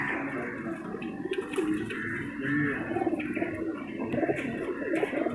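Pigeons flown for a pigeon-racing contest give low, soft cooing calls amid a busy background of rustling and distant voices. The sound stays at a moderate level throughout.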